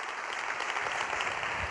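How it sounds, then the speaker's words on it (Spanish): An audience bursts into dense, continuous applause, many hands clapping together in a hall, loud and sustained for a brief moment. "dar un aplauso muy fuerte a su hermano que está aquí"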